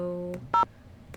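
Touch-tone keypad beeps from a phone in a Nancy Drew mystery game: a couple of short, clean dialing tones, spaced apart over a faint background hum.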